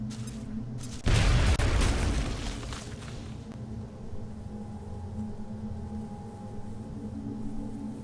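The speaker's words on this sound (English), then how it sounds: "I could also toss a frag grenade in there" A frag grenade in the game XCOM explodes with a single loud, close boom that rumbles and decays over a few seconds into quieter in-game ambience, with no talk.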